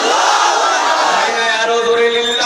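Large crowd at a Bangla Islamic sermon gathering chanting the takbir, Allahu Akbar, in unison, a loud sustained roar of many voices rising and holding for a couple of seconds.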